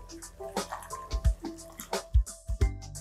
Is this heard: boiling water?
yes